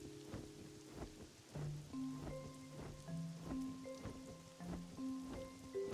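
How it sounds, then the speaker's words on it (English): Rain falls in the Pokémon Pokopia video game, a soft patter under a looping game soundtrack of sustained tones and light percussive hits, fairly quiet and with no speech. "It's already raining, bud."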